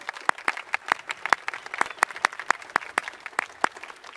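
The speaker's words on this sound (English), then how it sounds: "Please give our district leaders and members of our school board a round of applause." Sparse, distinct handclaps at a high school graduation ceremony, each sharp clap standing apart in an uneven rhythm, fairly close and moderately loud with no voices over them.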